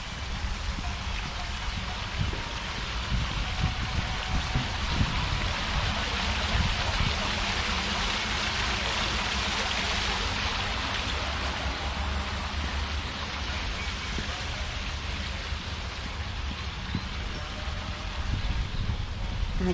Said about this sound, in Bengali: এই water ফাউন্টেনটা twenty four hours run আমি পানির শব্দে এমনিতেই মনটা ভালো হয়ে যায়